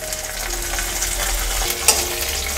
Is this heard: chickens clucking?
no